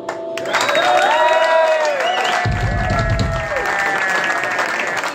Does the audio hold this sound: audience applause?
yes